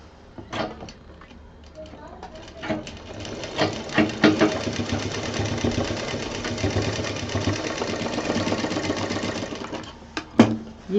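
A sewing machine stitches an expandable handbag in fast whirring bursts broken by short pauses and clicks, close and fairly quiet, with a voice speaking intermittently nearby.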